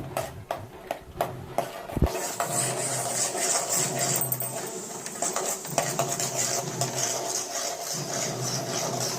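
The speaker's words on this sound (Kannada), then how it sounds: "ಕಡಲೆ ಬೀಜ ಸಣ್ಣ ಫ್ರೈ ಮಾಡ್ಕೊಳ್ಳಿ." Peanuts frying in hot oil in a pan for mango rice, with metal utensil clinks and scraping stirs over a low, steady sizzle, close and fairly loud.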